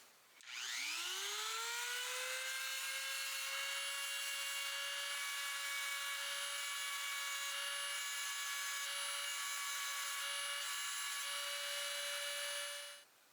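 A WEN 2307 rotary tool spins up and runs steadily with a dressing stone, a high, even motor whine with stacked harmonic tones that holds for about twelve seconds before cutting off; no one speaks.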